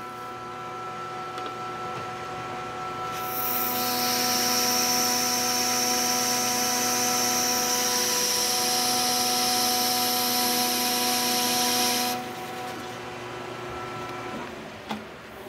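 A machine cutter works metal for a camera lens adapter with lubricant added, as a steady motor hum swells into a loud hissing cutting whine for about nine seconds, then drops back to the hum.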